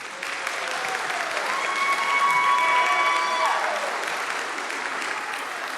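A school audience gives a sustained round of applause for lunch volunteers, steady dense clapping that swells slightly in the middle, with some faint cheering and voices mixed in.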